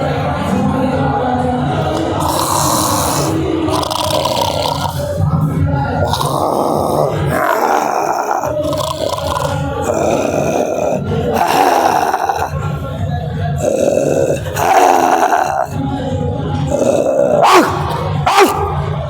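A voice imitates a dog snoring at night, with repeated rough, growling snore-like grunts in a steady breathing rhythm, loud and close, amid crowd noise in a large hall.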